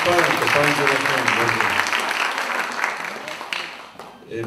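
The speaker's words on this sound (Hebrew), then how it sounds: "מגיע לכם את הכפיים, כפיים שלכם." Applause for community center staff at a Passover holiday toast, a sustained round of clapping in a gathering room that gradually thins out, with voices talking over it and a brief pickup at the very end.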